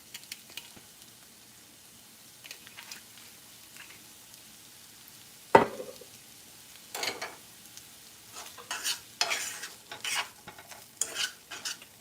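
Shrimp chow mein being stir-fried in avocado oil, with a quiet sizzle under scattered spatula scrapes and stirring clatter, one sharp clank midway and busier bursts of tossing toward the end, without any talk.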